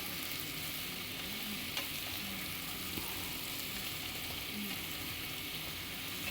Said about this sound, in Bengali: তো দেখো, এগুলোকে আমি একটু ভালো করে কষিয়ে নিচ্ছি।